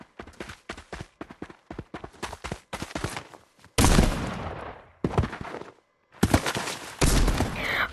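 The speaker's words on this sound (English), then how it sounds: "The sheriff is trying to shoot me." Gunshots fired by the sheriff in Fortnite: rapid, sharp cracking shots in quick bursts, followed by several louder, sustained blasts with bright noisy tails, separated by brief silent gaps.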